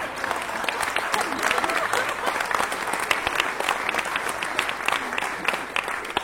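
A stand-up comedy audience applauds loudly and continuously, a dense wash of clapping with no pauses from start to finish.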